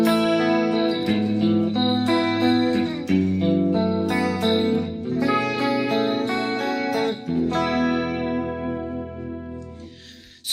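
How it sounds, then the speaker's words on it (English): Clean electric guitar run through reverb and delay in Bias FX 2 on an iPad plays a sequence of chords and single notes that overlap in a lush, echoing wash before fading out. "the reverb with all the delay, it sounds like this."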